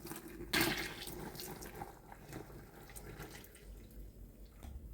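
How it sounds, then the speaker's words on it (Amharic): Clean water poured into a vessel of leaf gesho and malt while brewing Ethiopian tela, heard as a splashing gush at first that settles into a quieter, steady trickle, close by with no talking. "ውሃ እንጨምርበታለን፣ ንጹህ ውሃ።"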